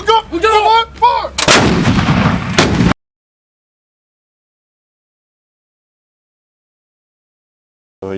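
A single loud artillery gun blast from Charlie Battery 211 at a field firing position on the Hawaiian islands, a sharp boom with a long rolling tail after brief shouted commands, followed by silence.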